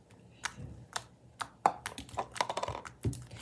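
Slime squeezed and pressed by hand gives off a series of sharp, irregular clicks and pops, close and crisp, some in quick clusters, with no talking.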